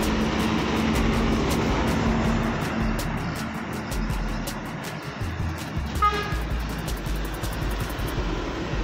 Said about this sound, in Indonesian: Ini ada truk Pertamina juga.